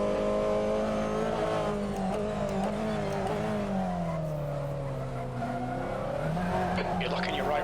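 TCR race car in a sim racing game at Knockhill, a steady droning engine note that rises and falls with revs under talk, and a brief scrubbing squeal near the end.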